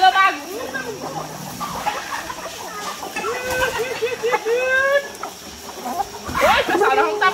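Free-range farm chickens clucking and squawking close by in overlapping bursts, with a few sharper calls, while people talk in between.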